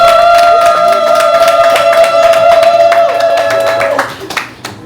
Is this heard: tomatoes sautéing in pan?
no